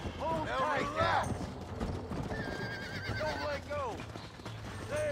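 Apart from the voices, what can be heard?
wild horse neighing in Red Dead Redemption video game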